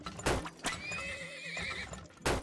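Horses in the game Turmoil stamp with hollow hoof clops around a clear, quavering neigh that rises and falls in the middle, heard close with no talk.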